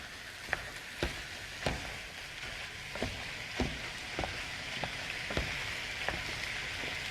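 Lean ground beef sizzles steadily in a pan for bolognese sauce while a chopping utensil strikes and breaks it up about every half second, producing light regular taps over a soft, close frying hiss.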